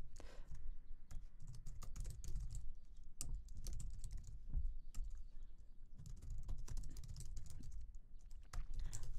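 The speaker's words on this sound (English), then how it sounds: "having issues typing today." Fast, uneven typing on a computer keyboard while a Quarkus Hello World project is set up, with dense close clicks and key thuds running steadily throughout and no voices.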